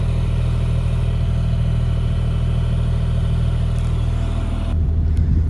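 A tractor engine runs steadily at a loud, close idle after pulling a safe out of a ditch, with a heavy low rumble and a brief shift in tone near the end.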